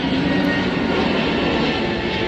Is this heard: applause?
no